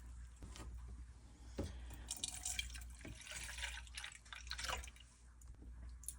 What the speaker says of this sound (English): measuring out 14 ounces of broth here